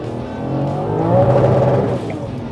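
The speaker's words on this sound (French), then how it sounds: "deuxième, tu burnes quand même les 4 roues" Turbocharged Audi R3 car making about 1000 hp, accelerating in second gear with a four-wheel burnout: a loud, steady engine roar with rising tone and tyre noise, close by, with no talk.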